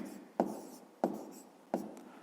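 A pen or marker writes an equation, three sharp scratchy strokes spaced about two-thirds of a second apart, each fading quickly, quiet and close, with no voices.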